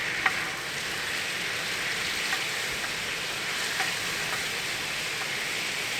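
Chanterelle mushrooms fry in coconut oil on a Tembo Tusk Skottle grill outdoors in an Oregon forest, giving a steady, dense, close sizzle throughout with a few faint clicks of stirring and no voices.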